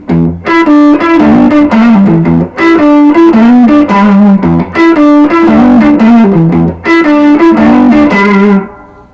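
Distorted electric guitar plays a blues lick in G with bends and repeated phrases, loud and up close, ending with a fading final note.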